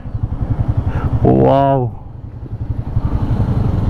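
A motorcycle engine revs and passes close by on a mountain road near Jalori Pass, rising and falling under a low rumble of other bikes, while a person exclaims briefly.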